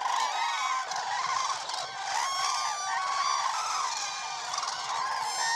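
A flock of cranes calling at dawn as they lift off from the ground of a swamp forest, a dense chorus of overlapping bugling and honking cries, loud and continuous throughout with no voices.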